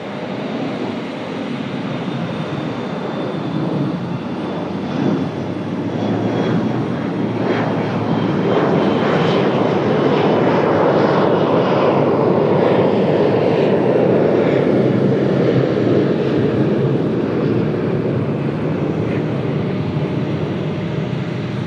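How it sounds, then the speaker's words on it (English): An Embraer E175 regional jet takes off at Raleigh-Durham, its broadband engine roar swelling steadily and staying loud and close throughout, with a faint high whine threading above the rumble. "Nice early rotation for the E175."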